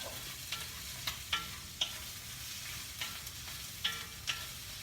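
Chopped onion and pepper sauté softly in a paella pan, a faint continuous sizzle broken by periodic light scraping stirs about every half second; no voices.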